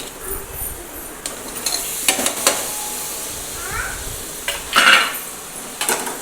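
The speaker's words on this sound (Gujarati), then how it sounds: "હવે આપણે નાખીશું બટેટા વટાણા" Potatoes and peas are tipped into a pan of spiced oil and stirred for a Gujarati vegetable curry, with close clatter and scraping of a spoon against the pan over a steady sizzle and no talking.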